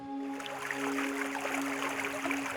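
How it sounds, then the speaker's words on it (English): A flowing stream trickles and babbles softly in a steady, quiet wash of water, heard alone in a calm natural setting. "Listen to the sound of a stream flowing"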